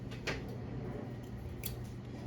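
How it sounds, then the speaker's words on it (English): Scissors snip at paper for a spray-art stencil, a couple of quiet crisp cuts over a low steady background hum. "so I just use scissors."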